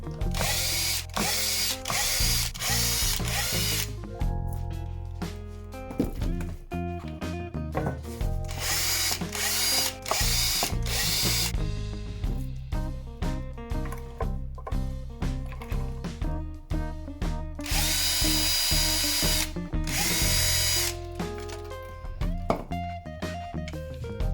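Fittings being unscrewed from a black Gibson SG with chrome hardware during a nitro refinish: a loud, steady power drill whirs in repeated bursts, with ratcheting clicks between runs and no talking.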